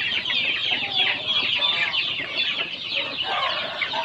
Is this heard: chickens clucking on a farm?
yes